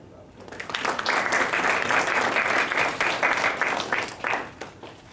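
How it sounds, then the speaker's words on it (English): A classroom of students claps together in a burst of applause that swells quickly after a quiet start, stays full and loud for several seconds, then tapers near the end. "right, clap."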